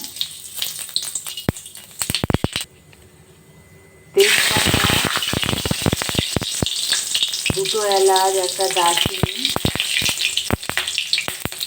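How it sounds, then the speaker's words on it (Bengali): Whole cumin drops into hot oil in a wok with a sudden loud sizzle after a quiet pause, then keeps crackling steadily while a person speaks briefly. "কড়াইতে পরিমাণ মতো তেল দিয়ে দিয়েছি তেল গরম হয়ে গেছে পরিমাণ মতো গোটা জিরে দিয়ে দিলাম"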